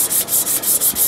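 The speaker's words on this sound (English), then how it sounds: "the tankard body is sanded down to" A wooden tankard body is hand-sanded toward 240 grit, a loud rhythmic scratchy rubbing with about six quick back-and-forth strokes.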